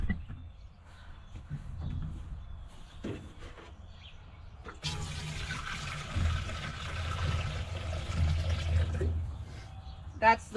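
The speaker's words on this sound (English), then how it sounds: "Get that water tossed out. Get you some fresh water." Water is tossed out of a container and fresh water poured for animals during morning farm chores. A splashing, gushing pour is heard up close in the middle, with quieter handling sounds and scattered background noise around it.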